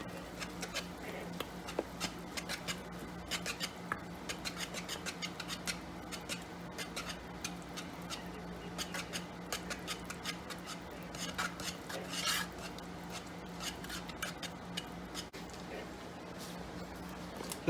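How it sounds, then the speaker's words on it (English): A gooey, cheesy mixture for baked bacon mac and cheese is stirred in a pot, giving a steady run of soft, rhythmic scraping and squelching strokes, close up and without talk. "And you're just going to keep mixing until it's one gooey,"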